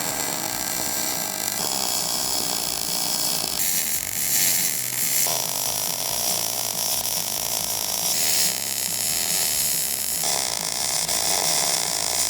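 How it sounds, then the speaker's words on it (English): Steel tubes being welded for a DIY welding cart, giving a continuous loud, close crackling buzz that shifts in tone across several passes with no pauses and no voices. "I'll weld these up."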